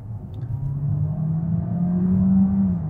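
A Peugeot 408 plug-in hybrid accelerates in hybrid mode, with both motors combining for 180 horsepower. A smooth, close engine note rises steadily on its own.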